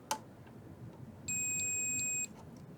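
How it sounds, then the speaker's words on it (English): A multimeter's continuity tester gives one steady high-pitched tone lasting about a second, clear and close, after a faint click, while someone checks parts on a 1955 Magnatone 108 amplifier. "on my multimeter, so it'll beep if there's continuity between the parts"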